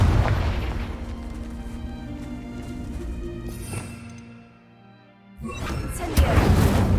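Spell explosions from Bombarda and Confringo in Hogwarts Legacy, a deep booming blast with a brief lull before a second loud burst near the end.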